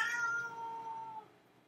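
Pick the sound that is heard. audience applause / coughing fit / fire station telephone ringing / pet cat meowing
pet cat meowing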